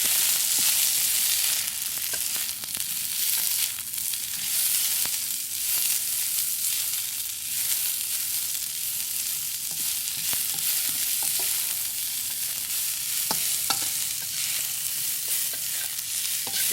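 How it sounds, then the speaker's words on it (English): Bean sprouts and red pepper stir-fried in a wok for shrimp and rice noodles with XO sauce, giving a steady loud sizzle with scraping stirs throughout, no talking. "Then I put the bean sprout in it and the red pepper."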